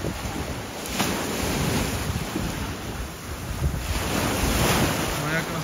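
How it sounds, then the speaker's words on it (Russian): Sea waves surging and breaking near a speedboat off Ang Thong national park in Thailand, with heavy wind buffeting the microphone, a loud continuous roar with rising swells. "И волны появились, море стало волноваться"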